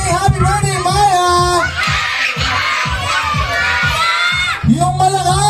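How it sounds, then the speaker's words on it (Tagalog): A crowd of children shouts and cheers loudly at a first birthday party, a sustained, rising roar of voices with whoops and yells that swells in the middle and then fades. "sigaw na muna, say happy birthday, Maya!"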